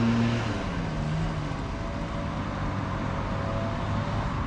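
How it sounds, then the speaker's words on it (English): Leaf blowers drone steadily in the background, a continuous motorized roar that never lets up. "you ain't gonna be able to hear because people are blowing leaves everywhere"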